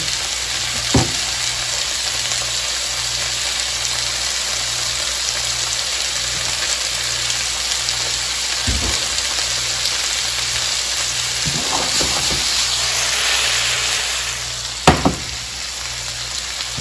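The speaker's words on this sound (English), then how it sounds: "we're still cooking down the onion and the green pepper, and we're browning our bison" Onion, green pepper and bison meat fry in olive oil in a pan for lasagna, a steady loud sizzle that runs throughout with a few brief knocks and clinks of stirring.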